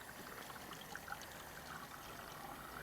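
Liquid trickles and pours slowly and steadily, with faint bubbling and gurgling, close by and quiet, with no talking.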